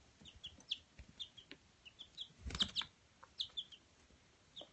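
Baby chicks, among them an Easter egger, establishing pecking order: scattered high peeps and chirps, with soft clucking and brief scuffling in between, close and lively with irregular rhythm.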